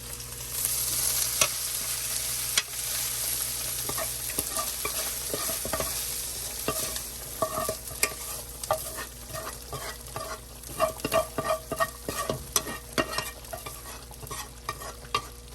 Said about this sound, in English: Add all this mixture into our sauce over here.